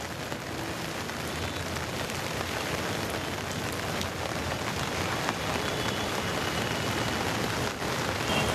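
Heavy monsoon rain in the Karjat area pours down in a dense, unbroken roar, steady and loud from start to finish.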